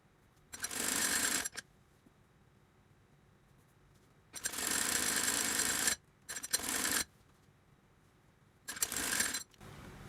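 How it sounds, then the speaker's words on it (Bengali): Sewing machine stitching the elastic casing of a child's salwar, running in several loud whirring bursts of one to two seconds with brief quiet gaps between. "ঠিক এই একইভাবে আমি বাকিটুকু সেলাই দিয়ে নিব।"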